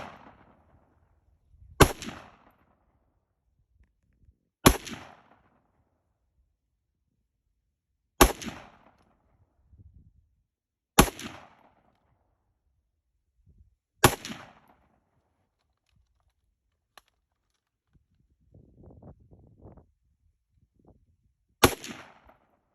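Six single sharp gunshots from a Radical Firearms AR-15 rifle firing 7.62x39 Soviet rounds at a 50-yard range, spaced a few seconds apart, each loud crack trailing off, with faint handling noise between shots.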